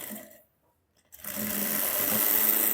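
Sewing machine stitching an Afghani salwar, running in a steady continuous whir after a brief quiet gap, close and fairly loud.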